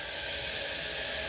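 Hot oil tempering in a pan for a home-cooked vegetable dish, a steady loud broadband sizzle and hiss that holds evenly without pause.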